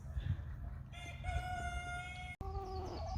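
Silkie chickens clucking softly in a yard, with a clear drawn-out crow-like call standing out over low background rumble, fairly faint and close by.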